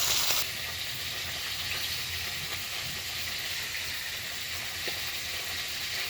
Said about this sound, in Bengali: দেখো কত সুন্দর করে ভেজে নেব দেখো একে একে সব মাছগুলো ভেজে নিলাম